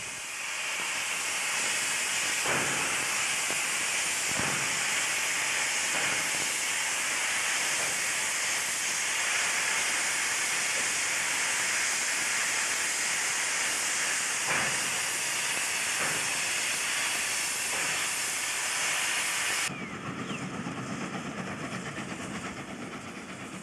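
A steam locomotive being turned on a New South Wales railway hisses steam in a loud, steady rush for about twenty seconds, with occasional metallic clicks and knocks, before the hiss cuts off and quieter mechanical sounds remain.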